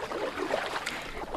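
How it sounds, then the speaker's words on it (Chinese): A rowboat moves through water, giving a continuous wash of swishing, splashing strokes that sounds close and fairly steady with no clear pauses. "这是 划船的声音。"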